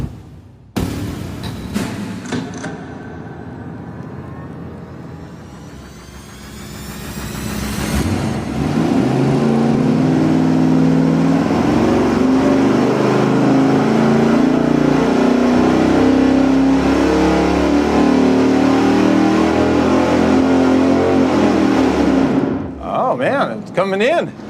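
A V8 engine on a dyno revs up through a hard, sustained full-throttle pull after a changed camshaft setting, loud and close, building from idle to a steady roar and then dropping off, with voices heard at the start.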